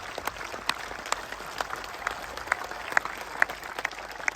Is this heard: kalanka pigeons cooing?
no